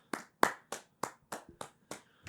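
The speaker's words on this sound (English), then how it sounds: "Round of applause for Mark." Seven separate, sharp hand claps at a steady rhythm over about two seconds, close and fairly loud, sounding like a small group or a single person clapping on a podcast set.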